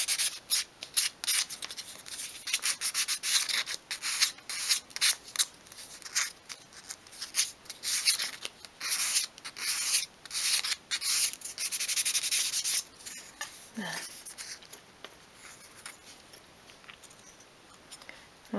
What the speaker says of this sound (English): you can just tidy that up with a scrap of sandpaper and come over these corners as well